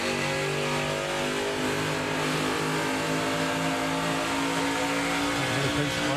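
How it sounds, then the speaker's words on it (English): NASCAR race car engine at a 2010 Nashville 300 race, a loud, dense roar of engines with a steady harmonic drone, the note easing slightly as the throttle lifts and then pushing back up. "He lifts off the throttle to give the 18-car a spot to get in line."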